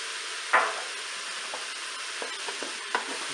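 Mushrooms being stirred with a spoon in a Cookeo cooker on its browning setting, a steady soft sizzle with a few scraping clicks and taps, close and alone.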